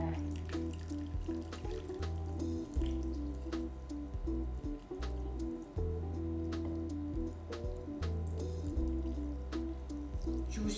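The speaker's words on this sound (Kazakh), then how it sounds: "Бұл кәдімгі крандағы суық су." Cold water runs steadily from an ordinary kitchen tap for the whole stretch, with a continuous close splashing flow and occasional dripping; there is no talk.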